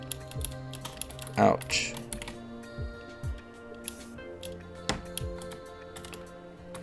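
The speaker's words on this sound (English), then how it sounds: "we're going to type in 2 lines" Code being typed on a computer keyboard: irregular runs of light key clicks with scattered louder taps, close and fairly quiet, and a voice speaks briefly.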